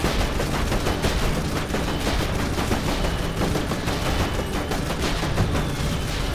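Dense, continuous rapid-fire machine-gun shots from the Jak and Daxter video game rattle loudly and without pause throughout.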